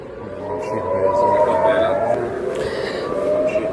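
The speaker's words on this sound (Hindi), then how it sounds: "सायरन बज रहा है।" An air raid siren in Israel sounds as a sustained, slightly rising tone that swells louder and holds, with faint crowd or voice noise beneath it.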